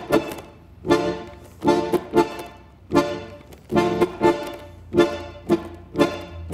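Solo tango syncopa rhythm with punchy chord strikes grouped in uneven pairs and triplets, the accents pushed off the beat, repeating in a driving loop close and clear with no talking.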